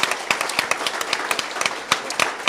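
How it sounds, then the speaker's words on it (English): Scattered hand claps from a small audience at an AI startup competition, a loose, uneven patter of individual claps rather than a full roar, moderately close. "Let's give them a round of applause."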